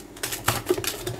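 A food processor whirs in short bursts as it grinds cocoa petit-beurre biscuits into powder, with a gritty, rattling buzz up close.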